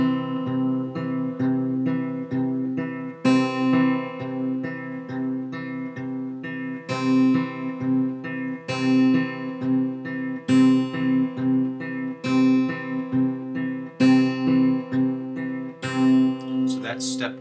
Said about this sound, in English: Step two is we're going to now add our middle finger and pinch these sounds together.